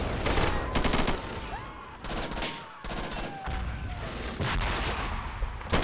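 Video game battle fire in Army Men: Plastic Wars crackles in repeated bursts of rapid shots, some heavier thuds mixed in, loud and close, with short lulls between volleys.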